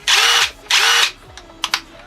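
A Dewalt DCK266P2 cordless drill whirs up twice with a soft start, each high, steady burst lasting about half a second, followed by a few faint clicks, close and loud with no talking.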